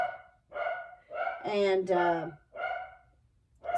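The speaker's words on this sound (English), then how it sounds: "that's my dog barking" A pet dog in a quilting room barks in a series of four or five loud, close, sharp barks with short gaps, and one longer drawn-out yelp in the middle. A brief word of speech comes in at the end.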